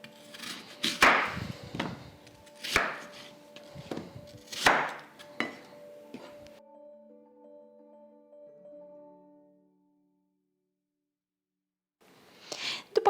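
A knife cutting peeled apples into quarters on a board, several sharp close chops and knocks in an uneven rhythm, then a pause before a few more cuts at the end.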